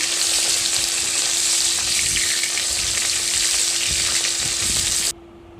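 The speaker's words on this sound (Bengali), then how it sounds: "মাছগুলো উল্টে পাল্টে ভালোভাবে ভেজে নেব এক পিঠ হয়ে গেলে আর এক পিঠও ভেজে নেব" Koi fish frying in hot oil, a loud, close and steady crackling sizzle that holds evenly for about five seconds before cutting off abruptly.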